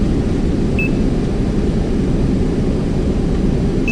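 Roar of Airbus A320 thrust reversers on the landing rollout in the P3D flight simulator, a loud steady broadband rush that holds through the whole stretch, with a short faint beep partway in.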